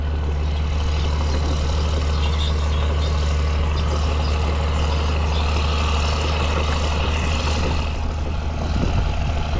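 An Allis-Chalmers 8070 tractor engine runs steadily with a deep, constant drone and rumble, close and unbroken, while disking wheat ground, with no talk.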